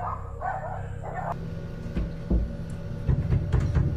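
Several dogs bark in a quick run of sharp, mid-distance yelps, followed by scattered clicks and knocks over a low hum.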